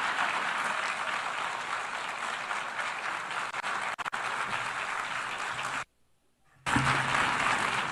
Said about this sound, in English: Nice round of applause for whoever's there.